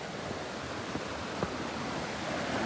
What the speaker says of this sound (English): Raging torrent. Crystal clear ice cold water.